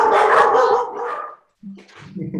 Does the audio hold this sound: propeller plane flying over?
no